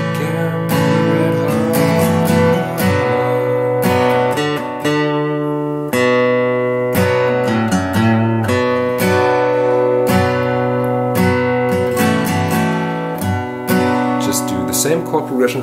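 Acoustic guitar strums the chord progression from a song, with rhythmic ringing strummed chords played close and loud for about fifteen seconds with no talking.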